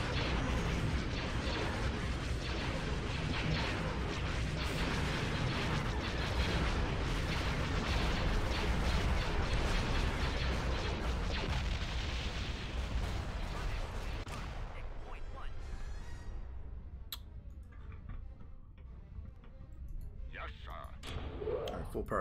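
Anti-fighter missiles firing in a Star Wars space battle game, a dense, loud barrage of launches and blasts that thins out toward the end, with someone talking over it.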